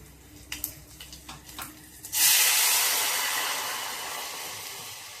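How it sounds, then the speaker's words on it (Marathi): Coconut milk poured into hot tempering with asafoetida for tamarind saar, several sharp sputtering pops giving way to a loud, sustained sizzling hiss that slowly fades, close and with no talk. "तर आपण हे नारळाचं दूध फोडणीला टाकणार आहोत"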